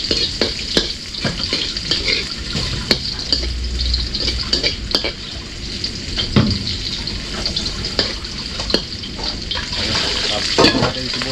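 Garlic frying in a pan for ginataang alimango, a crab dish, gives a constant close sizzle with frequent sharp clicks and scrapes from stirring. A faint murmur of voices sits in the background.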